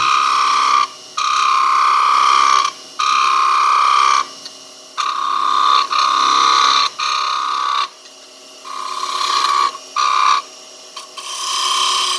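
A Tompkins V skew chisel cuts a small wooden snowman spinning on a lathe, giving a bright, rasping tool-on-wood scrape in repeated bursts of about one to two seconds, separated by short pauses, close and loud with no talk.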